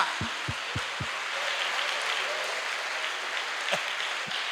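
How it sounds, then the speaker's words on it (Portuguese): Congregation applause in a church during a sermon, a steady wash of clapping with several loud, close individual thumps at the start and a couple more near the end. "Você pode aplaudir da glória a Deus"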